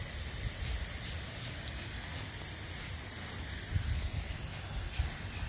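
A lawn sprinkler sprays water across grass and garden beds, making a continuous soft hiss that runs evenly throughout at moderate distance.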